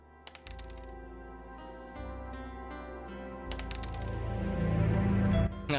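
Video game coin pickups chiming in quick bright clusters over looping game music, a steady run of jingly collection sounds with no voices.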